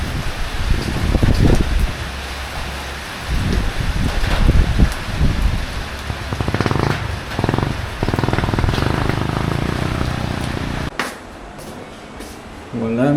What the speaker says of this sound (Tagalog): Umuulan din hanggang ngayon.